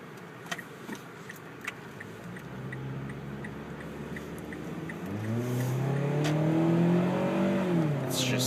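A 2012 Mazda 6 engine with a 5-speed automatic rises in pitch as it accelerates, droning steadily and growing louder toward the end, with faint ticking in the background.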